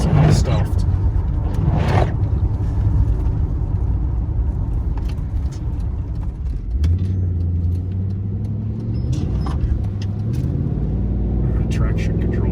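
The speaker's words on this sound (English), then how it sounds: "What a terrible day to be driving a V8." A Mercedes with an M119 V8 is driven on a rainy day, its engine a loud, close low rumble throughout, with rising revs as it accelerates in the second half and people talking over it.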